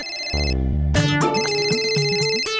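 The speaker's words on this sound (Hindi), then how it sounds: "फोन उठा" A telephone rings in a domestic TV-drama scene, a bright electronic ringtone repeating steadily and loudly, with a short low tone sounding before it.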